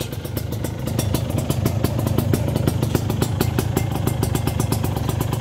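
A modified Kawasaki Ninja with original parts and a PDK block fires up close by and idles with a rapid, even, throbbing pulse. Loud and steady, with light mechanical clatter and no talk.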